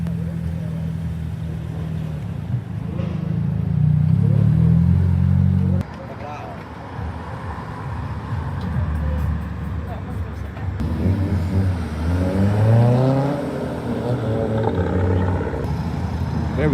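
Cars arrive at a car meet at Marsh Mills in Plymouth, with deep engine rumbles and revs rising and falling as vehicles roll in. People talk and exclaim throughout over the motors.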